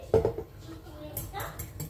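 Parsley and oil being mixed into a pasta salad in a bowl, with a few close utensil clinks and scrapes against the dish, the first knock loudest, spread over a short stretch.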